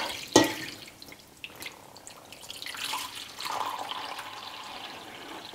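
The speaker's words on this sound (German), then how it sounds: "und füllen das mit Wasser auf." Water splashes and trickles into a cloth-lined pot holding a glass, with a short sharp clink at the start and a faint, uneven pour after it.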